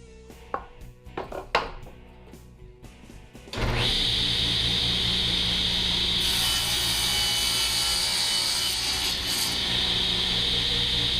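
Power saw ripping wood strips for cutting boards, starting after a few light knocks and handling sounds, then a loud, steady, high whine of the blade cutting through the board that runs continuously to the end.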